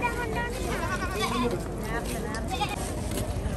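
Goats brought as offerings bleat several times at a crowded uroos festival at Beemapalli, Thiruvananthapuram, their wavering cries rising over steady crowd babble and nearby talk.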